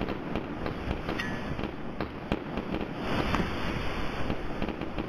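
Grenade blasts and crackling combat noise from BattleBit Remastered, a dense run of sharp bangs and pops at moderate loudness over a constant rumbling background.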